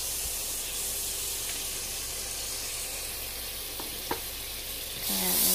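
A stick of butter melting in a warmed skillet over medium heat gives a steady, even hiss and fizz throughout, with a faint tap and a swell of louder sizzling at the end.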